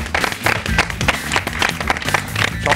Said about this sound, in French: On peut l'applaudir un peu plus fort quand même.